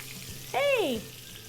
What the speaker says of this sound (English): so this hot oil, we are going to add our chicken pieces